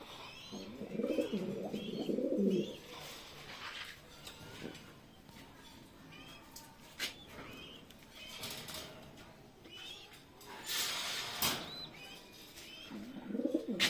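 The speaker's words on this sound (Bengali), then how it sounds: "আমার খামারে কী কী কবুতর আছে" Racing pigeons coo repeatedly in low, throaty bursts inside a pigeon loft, joined by occasional chirps and brief wing flutters, with no talking.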